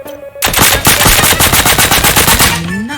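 Rapid automatic gunfire from the video game Deceive Inc., a loud continuous burst of evenly spaced shots lasting about two seconds before cutting off, with a faint rising electronic tone at the end.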